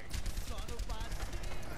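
Rapid bursts of gunfire in the game Overwatch crackle steadily under an ongoing voice, dense and continuous throughout.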